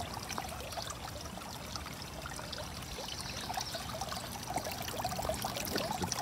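Water pours and trickles steadily from a fish pond pump fitted with a new filter, a continuous close splashing stream that swells slightly toward the end, with no talking.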